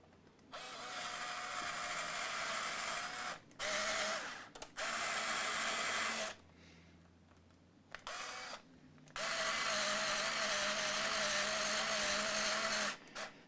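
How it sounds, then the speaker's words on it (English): A power drill drives screws into an Epiphone Les Paul guitar body in several bursts of whirring, separated by short pauses, with a final long run near the end. The tool is close and clear, and no one talks. "if I can just get a couple of screws in"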